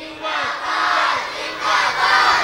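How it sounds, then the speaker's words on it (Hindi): A large crowd at a religious gathering shouting the Nara-e-Takbir slogan in unison, loud massed voices rising and falling in two or three surging waves. "मेरे साथ मिलकर भरपूर नारा लगाएं, नाराए तकबीर"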